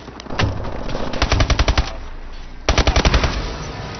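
Video game gunfire, loud, close automatic bursts of rapid evenly spaced shots, with one long burst, a short pause, then a second burst.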